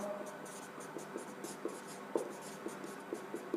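A pen scratches out notes on paper in a continuous, close, soft stream of strokes punctuated by small taps and ticks where letters and words break, with no voices.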